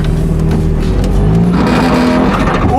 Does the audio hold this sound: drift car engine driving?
yes